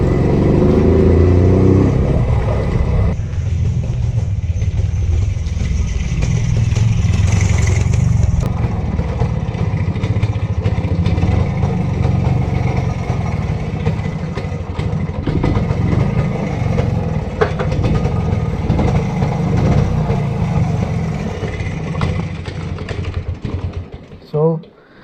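A Rajdoot 175 motorcycle engine runs steadily at idle for a long stretch, a loud, close, continuous low rumble with mechanical clatter, briefly revving near the start before cutting out at the end.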